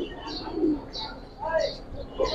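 Domestic fancy pigeons at a pigeon sale coo softly in short repeated phrases, close by, with people talking over them.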